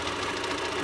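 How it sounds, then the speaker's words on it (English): A home sewing machine stitches at full speed, a fast, even mechanical chatter and hum running continuously close by for under a second, with no voice. "This is as fast as this machine sews."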